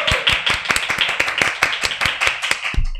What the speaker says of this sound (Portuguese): Uma salva de palmas, minha gente!